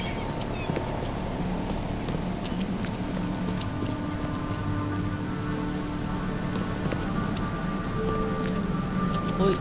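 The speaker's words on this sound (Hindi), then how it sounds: "अभी तक मुझे इसमें पानी ही पानी नज़र आ रहा है हर जगह पे, बारिश इतनी हो रही है।" Rain in the video game The Sinking City, a steady soft patter with scattered drop clicks over a low ambient rumble, continuous and moderately quiet throughout.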